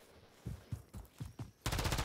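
Gunfire in the video game Call of Duty: a quick series of about five separate shots, then a sustained loud automatic burst at the end.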